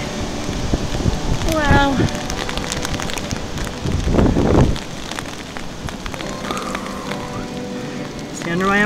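Strong wind gusting through wet woods in rain, a broad steady roar with gusts swelling loudest around the middle, and a person exclaiming briefly near the start.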